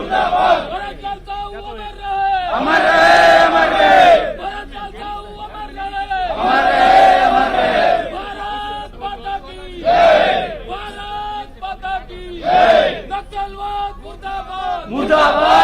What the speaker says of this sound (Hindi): और नक्सलवाद मुर्दाबाद के नारे लग रहे हैं